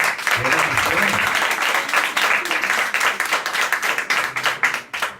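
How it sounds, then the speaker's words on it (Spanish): A church congregation claps and applauds enthusiastically in a large room, sustained and loud, tapering into scattered claps, with low voices mixed in at first. "Yo creo que la mujer le puede dar un aplauso al Señor"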